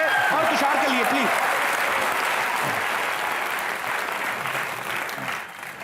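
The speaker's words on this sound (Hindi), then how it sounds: "जोरदार तालियां जीतू जी के लिए और तुषार के लिए प्लीज" Studio audience on a Hindi comedy TV show breaking into loud, sustained applause, dense clapping with crowd noise that holds steady for several seconds and then begins to taper off; a voice is faintly audible beneath it.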